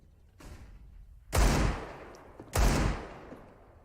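FAMAS rifle bursts in Counter-Strike at an ESL One Cologne 2018 esports match, two loud sharp volleys about a second apart, each trailing off in a crackling decay over low background noise.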